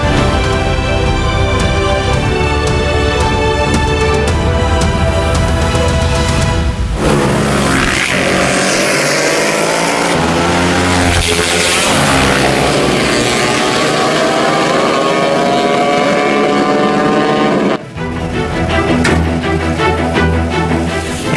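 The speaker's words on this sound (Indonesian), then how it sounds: "polisi mengamankan puluhan motor yang menggunakan knalpot brong" Motorcycles fitted with loud open brong exhausts, revving during illegal street racing at a government office complex in Boyolali, make sustained, rising and falling engine roars that stay loud and continuous throughout, with no speech.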